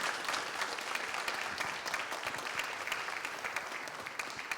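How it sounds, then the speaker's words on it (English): An audience at a Peralta community forum breaks into sustained applause, a dense, even wash of many hands clapping throughout, loud and close, with no voices standing out. "I just wanted us to give you a round of applause and say thank you for this"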